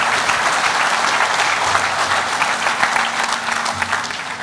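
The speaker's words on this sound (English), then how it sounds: "Let's give our staff a big round of applause here." Sustained audience applause at the grand opening of the Choctaw Nation campus headquarters, a dense, steady clatter of many hands from a large crowd, loud and continuous with no voices on top.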